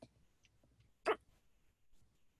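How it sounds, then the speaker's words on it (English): A small dog gives a single short, sharp bark in the middle of an otherwise quiet room, a brief isolated burst over faint background noise. "There's my little general barking right now."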